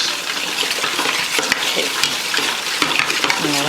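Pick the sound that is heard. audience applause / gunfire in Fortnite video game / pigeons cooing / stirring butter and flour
stirring butter and flour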